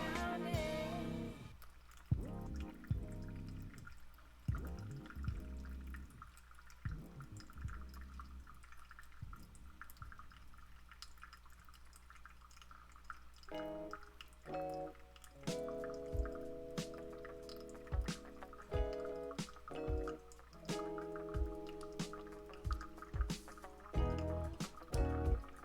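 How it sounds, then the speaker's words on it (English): Hot water poured over ground Rwandan coffee in a pour-over brewer, trickling and dripping steadily into the vessel below, with a stream of small splashes and drips through the whole stretch and no talking. "And then we're going to center pour the rest of this."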